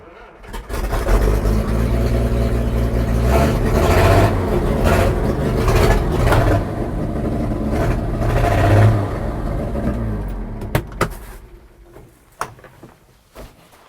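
A military Volvo car engine starts and runs with a steady, loud mid-range rumble and some revving, then fades out toward the end.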